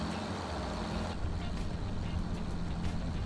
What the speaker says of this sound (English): I love the sound of these MB tracks.